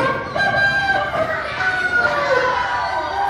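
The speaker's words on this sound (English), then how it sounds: "and a rooster." A rooster crows with a long, harmonic call stretching across the clip, fairly loud and close, with some clucking fowl in the background.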